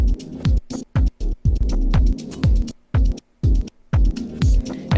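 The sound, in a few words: gate pad effect on Pioneer DDJ-1000 DJ controller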